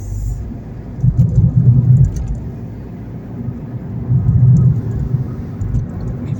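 An automatic-transmission car accelerates onto a 70 km/h road after leaving a roundabout. A steady, loud low engine and road rumble swells twice as it speeds up.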